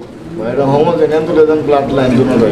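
A male Roman gall pigeon coos in soft, throaty rolling bursts, close by, while people talk over and around the calls.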